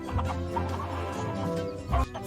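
Chicken clucking repeatedly up close, a series of short throaty clucks with a louder burst near the end, heard alone without talk.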